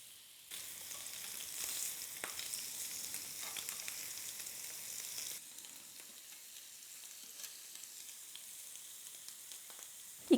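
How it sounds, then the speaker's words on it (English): Lamb cutlets sizzle steadily on a hot griddle pan, a continuous frying hiss that drops to a quieter sizzle midway, with a sharp clatter at the very end. "place those lamb cutlets on the griddle and cook for about 2 to 3 minutes each side until well browned"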